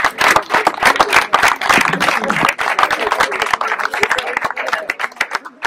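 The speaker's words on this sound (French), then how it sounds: "Alors on peut les applaudir, hein, nos parlementaires." A village crowd gathered for an organ-donation commune event claps for parliamentarians, a loud, uneven round of close individual hand claps with scattered voices mixed in.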